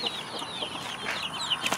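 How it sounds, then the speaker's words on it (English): Chickens, including a blue chicken, cluck and chirp busily alongside a turkey in a farmyard, producing a steady stream of small, overlapping calls close by. "Turkey being friends with that blue chicken."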